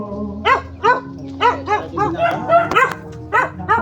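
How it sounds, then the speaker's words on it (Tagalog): Several dogs barking nearby in quick, irregular bursts, with yips and whimpering mixed between the barks. "Ay, may mga aso."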